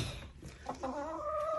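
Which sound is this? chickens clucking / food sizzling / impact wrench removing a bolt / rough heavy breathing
chickens clucking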